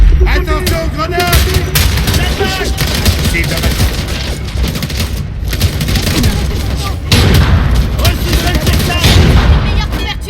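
Gunfire and explosions in the video game Homefront: The Revolution, dense rapid bursts of shots and booming blasts that run continuously, loud and close, with shouted voices mixed in.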